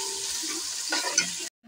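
Onions, garlic and chicken frying together in a pan, a steady close sizzle with a brief stirring scrape near the end before it cuts off.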